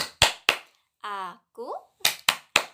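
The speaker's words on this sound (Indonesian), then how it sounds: "kita mau belajar tepuk anak soleh ya" Sharp, close hand claps keep rhythm for a children's clapping song in a kindergarten Islamic religion lesson: two quick claps, a pause filled by a singing voice, then three more evenly spaced claps.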